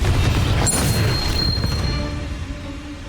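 Confringo fire spell blast in Hogwarts Legacy, a single heavy booming explosion up close that rolls off into a fading rumble with faint high ringing tones.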